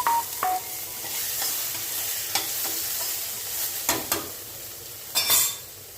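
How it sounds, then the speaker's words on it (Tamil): Tomatoes and fenugreek leaves sauté in a pan, a steady soft sizzle broken by repeated scrapes and taps of a spoon stirring close by. "தக்காளி சேர்த்து நல்லா வதங்கி வரட்டுங்க"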